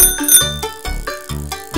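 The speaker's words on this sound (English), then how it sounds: "Bicycle." A bicycle bell rings several times in quick succession, bright metallic dings that are loud and close, each fading briefly before the next.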